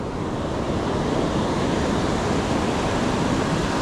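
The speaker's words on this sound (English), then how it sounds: "This beach is beautiful." Waves washing onto a beach in a steady, dense roar of surf, fairly loud and close, with some wind noise on the microphone and no voices.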